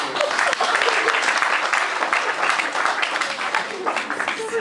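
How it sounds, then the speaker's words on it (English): An audience applauding volunteers on stage at a post-prom hypnosis show, a dense, loud burst of clapping filling the room for a few seconds with some voices mixed in. "And a nice round of applause for the volunteers."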